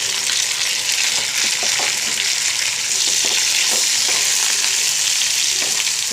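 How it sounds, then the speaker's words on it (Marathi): Garlic roasts in hot oil in a pan with chilies for a spicy Solapur-style dill greens dish, a loud, continuous close-up sizzle with occasional light stirring clicks and no voices. "लसूण थोडा हलका भाजला की आपण टाकूया मिरची"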